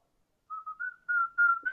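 A short whistled melody of several clear, sustained notes in a rising and falling line, a close, solo whistler with no other sound.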